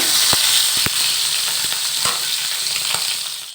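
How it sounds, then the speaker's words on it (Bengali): Shrimp fry loudly in hot oil with four green chillies, a strong, close sizzle that barely lets up. Sharp knocks from the stirring utensil punctuate it every half second or so, with no talking. "চারটা কাঁচামরিচ দিয়ে আমি চিংড়ি মাছগুলো ভেজে নিচ্ছি"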